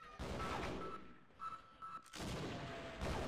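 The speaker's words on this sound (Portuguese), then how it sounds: "é muito tiro, velho" Bursts of gunfire from the Half-Life video game crackle in rapid volleys at low level, broken by brief pauses.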